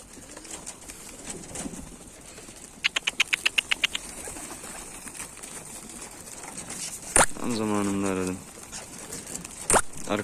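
A pigeon landing on a rooftop, with a quick burst of wing flaps, a brief rapid patter of wingbeats and a louder flutter near the end, close by over faint outdoor background.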